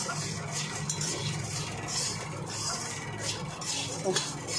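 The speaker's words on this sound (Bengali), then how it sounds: "এবার মুড়িটা দিয়ে একসাথে মুড়ি ভাজা এখানটায় ভেজে নেব" Puffed rice and onion frying in a pan, a soft, continuous sizzle with scraping and light clinks of a spatula stirring, fairly quiet throughout.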